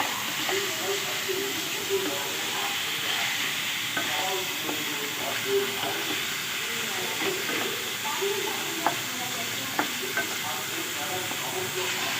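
Minced chicken with spices sautés in a pan with a steady hissing sizzle, broken by occasional sharp scrapes and taps of a spoon over about twelve seconds.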